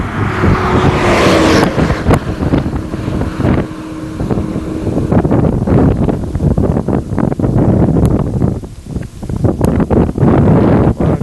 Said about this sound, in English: lot of trucks moving very quickly